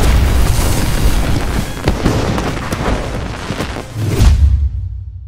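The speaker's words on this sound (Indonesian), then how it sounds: "kelompok Chang pun langsung meledakkan bom yang telah mereka pasang" A bomb detonates in a heist film during a New Year scene, a sustained loud roaring blast with booming rumbles and crackling bursts, ending in a heavy low thud before cutting to silence.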